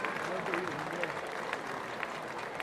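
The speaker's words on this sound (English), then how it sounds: "Ellis Gillam just leaving the field here to a warm applause from all 4 corners" A rugby league crowd at a Barrow Raiders versus Bradford Bulls match keeps up steady, distant applause for a departing player, heard under a commentator's continuous talk.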